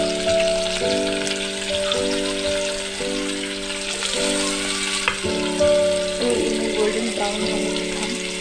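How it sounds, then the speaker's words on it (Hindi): Mashed onions added to hot oil left from browning chicken for chicken yakhni sizzle and fry steadily, with occasional stirring clinks over a continuous loud crackle. "अब हम इसी ऑयल में अपने ओनियन अच्छे तरीके से मैश करके डालेंगे।"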